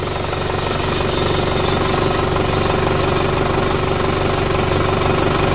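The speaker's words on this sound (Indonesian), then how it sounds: "Ini suara pangkon knalpot." A loud, continuous metallic rattling and vibrating from a loose exhaust pipe hanger on an idling Isuzu Panther engine, steady and close without pause.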